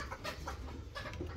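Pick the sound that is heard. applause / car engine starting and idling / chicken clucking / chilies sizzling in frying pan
chicken clucking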